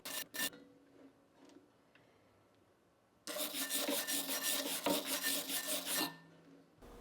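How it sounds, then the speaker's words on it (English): Steel wire brush scrubbing leather remnants off the bottom roller of an NP4/NP10 leather skiving machine: a few short rasps near the start, then a loud, steady stretch of dense bristly scraping for about three seconds, with no talk. "Use a steel wire brush to remove any leather remnants on the roller."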